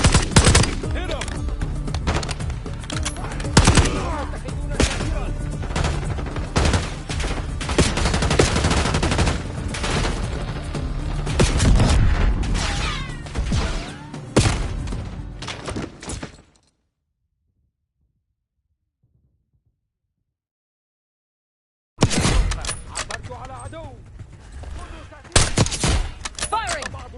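Dense bursts of automatic gunfire and rapid shots from the Black Ops 6 campaign, loud and continuous with a few seconds of silence before firing resumes; faint voices mix in.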